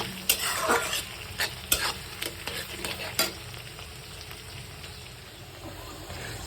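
Chopped onions and seasonal vegetables such as potato and carrot fry and are stirred in a pan for chicken tehari, a steady close sizzle broken by repeated scraping stirs.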